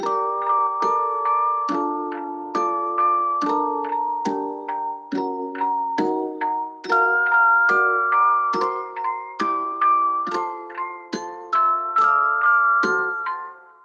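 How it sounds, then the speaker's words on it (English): Synthesized bell tones from the Omnisphere software synth play a repeating melodic pattern of struck, ringing notes with clear decaying attacks, bright and prominent with no voices. "this gorgeous little thing from Omnisphere, the bells."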